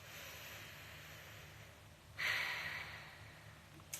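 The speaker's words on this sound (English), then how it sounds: "So take a deep breath into your heart." A slow, deep breath drawn in and let out, soft and close, a steady airy hiss that swells midway and fades, followed by a faint catch at the end.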